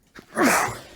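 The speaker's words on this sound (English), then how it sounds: "Sorry, I just sneezed." A single sudden sneeze bursts out close up, sharp and breathy, during a casual conversation between people reviewing an album; no words are spoken over it.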